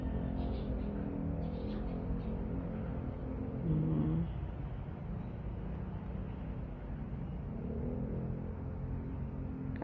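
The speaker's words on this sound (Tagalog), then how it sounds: "Malapit po kasi kami sa highway. Kaya, naririnig ang ingay ng mga sasakyan." Road traffic from a nearby highway, a steady low rumble of passing vehicles that stays constant throughout, with one heavier vehicle swelling briefly.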